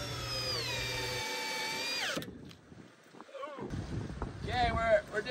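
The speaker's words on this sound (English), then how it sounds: "The Makita 40-volt drill versus the Milwaukee 18 impact." A Makita 40-volt drill and a Milwaukee 18-volt impact driver whine at high speed, then the motor winds down sharply. After a short pause, faint handling noises and a brief high-pitched squeal follow, recorded outdoors.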